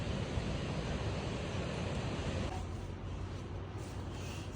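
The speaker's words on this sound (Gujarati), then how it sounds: "મસ્ત અવાજ આવી રહ્યો છે મોજાનો." Sea waves at Diu wash in as a continuous, soft, hissing roar of surf, faint and distant, with a slight wind rumble and no clear voices.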